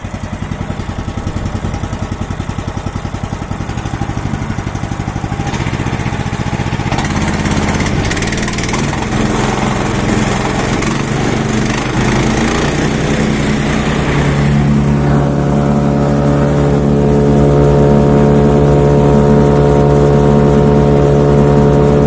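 A MAST Gartentechnik GS1500 garden shredder runs steadily and loudly with a continuous motor drone. Partway through, the tone shifts to a stronger, steadier hum with clear harmonics. No one speaks.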